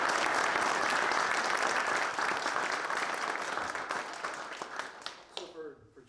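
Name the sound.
audience clapping at a graduation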